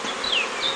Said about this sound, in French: les abeilles sont rentrées là-dedans parce qu'il y a leur reine